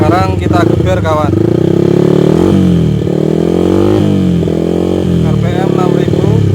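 A Yamaha Vixion motorcycle engine revs up and down repeatedly at close range, loud and rasping, with each throttle blip rising in pitch then falling back.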